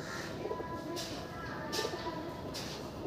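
Tippler pigeons coo softly in a loft, with a steady low murmur of cooing and faint rustling throughout, under a continuous background hum.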